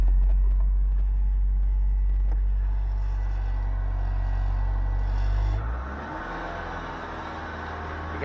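A Toyota MR2 engine idling just after starting, a steady low rumbling drone close by that drops and settles into a lighter idle partway through.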